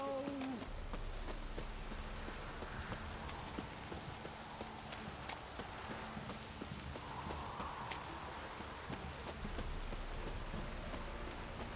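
Steady rain pours down in The Witcher 3, a continuous wash of downpour mixed with horse hooves clip-clopping on wet ground, and a voice speaks briefly at the start.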